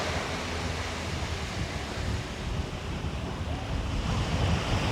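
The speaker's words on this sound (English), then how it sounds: "But here's the Serenity Bay beach." Surf washing onto Serenity Bay beach at Disney Lookout Cay, a steady broadband roar of waves with wind buffeting the microphone, continuous and fairly loud with no speech.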